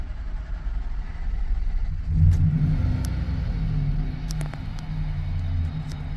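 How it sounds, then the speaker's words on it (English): A diesel truck engine rumbles steadily at close range, its low drone swelling as it revs about two seconds in, then holding a heavy, uneven idle with a few sharp clicks and knocks over the top. "Oh, did you hear a diesel there for a second?"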